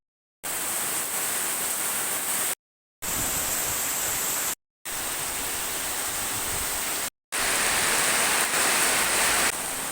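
Heavy rain pours steadily on a village on Sangihe island, a dense, loud hiss broken into four cut segments with short silent gaps between them.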